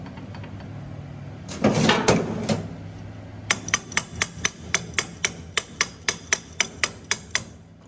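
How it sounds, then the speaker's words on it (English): A hammer strikes a metal sprocket on a corn head in a steady series of about fourteen sharp, ringing blows, preceded by a short scraping clatter, close by with no talk. "Never thought to grab me a hammer, take and pop that sprocket back on."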